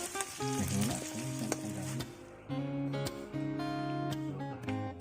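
Spices and turmeric sizzle loudly in a hot pan as they are stir-fried inside a cave, with steady crackling frying and scraping stirs close by.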